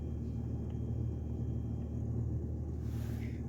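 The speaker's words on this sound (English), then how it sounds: "Starts up like a champ, running nice and smooth." A Chevrolet Colorado truck engine idling after starting, a low, steady rumble with an even tone throughout and no revving.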